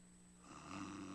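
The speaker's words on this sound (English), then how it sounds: "Is that snoring I hear?" Faint snoring breaths rising at a Christmas celebration stage show, a soft low rasp swelling over about a second with no one talking.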